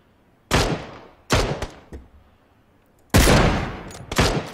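Four loud, close gunshots in the video game PUBG, coming at uneven intervals, each a sharp crack followed by a quickly fading tail.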